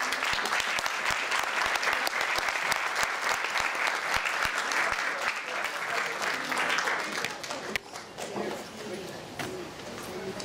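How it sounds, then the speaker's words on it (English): A crowd applauds at a university green awards ceremony, steady dense clapping that holds for about eight seconds before thinning out, with a few voices audible underneath. "one more round of applause for all of our awards"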